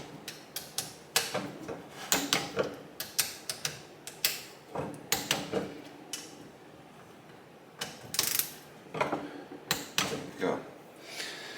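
A torque wrench clicks and ratchets while tightening engine bolts on a 2005 Kawasaki KX65 during a top-end rebuild, with irregular sharp metallic clicks and ratcheting bursts up close and someone talking faintly at times.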